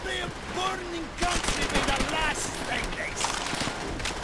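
Gunfire from Call of Duty: World at War rattles in bursts under excited co-op player chatter, with the loudest stretch of rapid shots in the middle and steady combat noise throughout.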